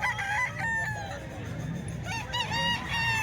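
Several chickens crow and cluck at a Filipino poultry stall, overlapping drawn-out crows over a steady background murmur, with a second bird answering near the end.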